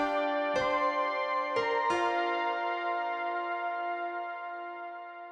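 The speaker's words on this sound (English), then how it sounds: "listening to these 2 sounds together, the piano and woodwind sound" Synthesizer combi patch blending piano and woodwind tones: three struck chords with bright attacks, the last held and ringing with a smooth sustained, slowly decaying tail, clean and close with no voices.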